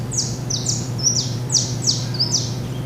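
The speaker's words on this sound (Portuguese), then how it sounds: "Vai escutar os passarinhos." Small birds chirp in a repeated series of short, bright, high calls about every half second, clear and fairly close over a steady low hum.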